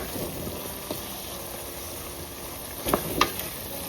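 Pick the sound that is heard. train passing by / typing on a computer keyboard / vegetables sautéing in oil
vegetables sautéing in oil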